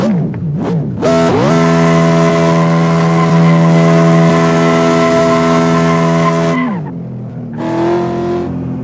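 A car launches at 100% turbo in 4th gear with a loud, close, sustained engine roar and tire squeal that holds steady for several seconds, then drops away and briefly returns.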